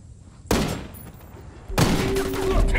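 Heavy gunfire in the tactical shooter Ghost Recon Wildlands: two loud bursts of sustained fire, the second rolling on to the end, with faint voices in the background.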